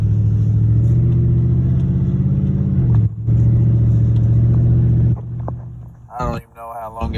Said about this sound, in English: Here comes some traffic.